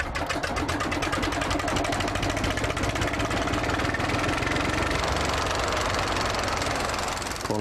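A Ruston Bucyrus 10RB excavator engine from the classic plant era runs steadily up close, giving a loud, continuous rapid chugging knock that holds even throughout.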